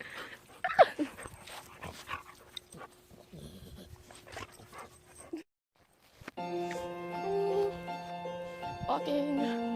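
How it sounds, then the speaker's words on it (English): A farm dog near a newly built barn whimpers and gives short yips in scattered bursts while people talk. After a brief silence a steady tonal hum follows. "And there's my dog Jake."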